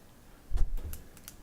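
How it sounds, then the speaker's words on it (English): Several short keystroke clicks on a computer keyboard in a quiet room, a brief burst of typing at close range with no talking. "I think he's typing it out"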